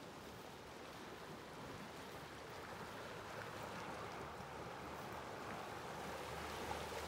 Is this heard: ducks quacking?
no